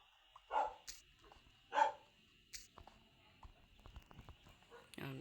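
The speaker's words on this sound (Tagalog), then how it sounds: "Yun lang guys, ang ingay ng aso." Two sharp barks from a dog a short distance away, followed by scattered clatter and rustling, with a brief burst of noise at the end.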